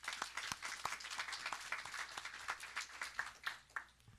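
A modest group at a school board meeting gives a round of applause, individual claps distinct and close, sustained for several seconds.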